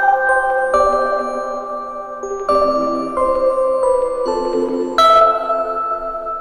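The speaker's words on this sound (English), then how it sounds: "Let me give these bells to you so you can hear the bells." Mellow studio bells are struck one after another, about eight clear ringing tones with long sustain that overlap and fade, close and loud, with no voices.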